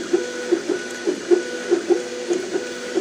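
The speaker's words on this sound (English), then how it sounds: "look at the old, you can hear the drivers, obviously, the old school drivers. No micro-stepping." MakerBot Replicator+ 3D printer with old-school stepper drivers and little micro-stepping, giving a steady mechanical hum broken by quick rhythmic pulses about every quarter second, near and moderately loud with no talking.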